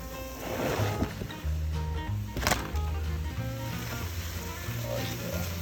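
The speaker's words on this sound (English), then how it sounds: "Giving everything a nice sizzle." Parsnips, turnips and other soup vegetables sizzle steadily in a hot pan while being stirred, a continuous crackling hiss that carries on throughout.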